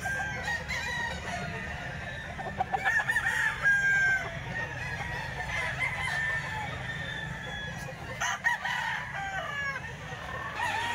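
Roosters crow and chickens cluck at a busy Sunday tiangge market, several birds calling at once over a constant crowd murmur.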